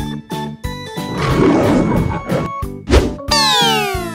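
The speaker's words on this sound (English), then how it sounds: "Tiger" A tiger roar rises as a long, rough, noisy burst through the middle of a bouncy children's music track with stepping synth tones, followed by a short cartoon boing and a rising sweep.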